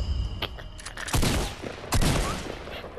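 Gunshots ring out in a video game, a few sharp loud bursts close together with scattered fire in between and no talking.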